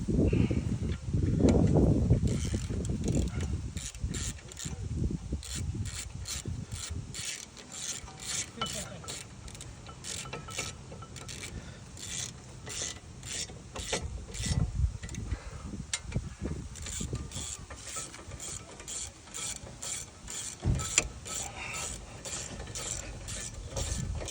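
Ratcheting clicks from a wrench tightening the bolt on a car's brake caliper carrier, a steady run of rapid clicks through most of the stretch, close and moderately loud, with rubbing and clanking metal early on.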